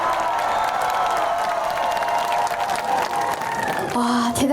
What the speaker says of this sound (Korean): 자한 번 더 더 크게 준비하시고 박수와 함성!